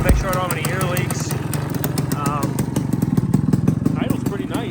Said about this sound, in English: it's idling right now, but it's not going to idle with the choke on.